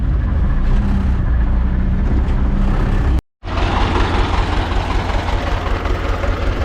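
A YuMZ-6 tractor pulling an old cultivator through a field gives a loud, steady diesel drone that cuts out for an instant before resuming at full strength.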